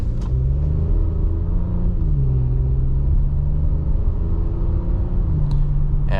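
2022 Audi SQ5 Premium Plus accelerating hard on the road in comfort mode, a steady, loud low engine rumble and drone that rises slightly in pitch with continuous road noise, no talking.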